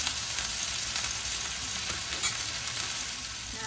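A New York steak sizzles in a pan with rosemary, rendering its fat on the side: a quiet, even hiss with light crackles and a small pop near the end, no voices.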